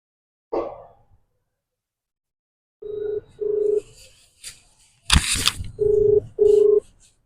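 A telephone ringback tone from an iPhone call plays as two double-ring bursts, with a short clatter between them and silence before.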